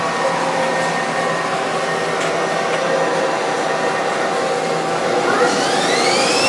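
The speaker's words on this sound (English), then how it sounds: "Lathe's working." A lathe runs at high speed, a loud, steady whirring hum with sustained tones and a rising whine near the end, constant and close throughout.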